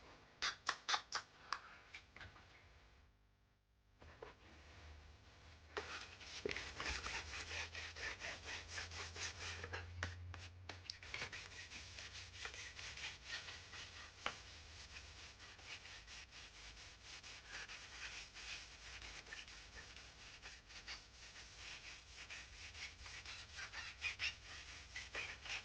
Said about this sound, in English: That's the end of the sanding.